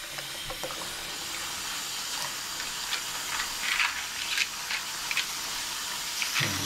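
Tap water runs steadily into a sink while small model car parts for a 1/24 scale slot car are rinsed, a soft continuous hiss with faint clinks and splashes and no talking.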